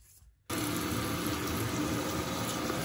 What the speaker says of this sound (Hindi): अभी इसको अच्छी तरह धो लेंगे।